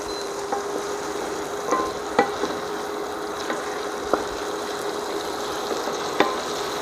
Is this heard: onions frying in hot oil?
yes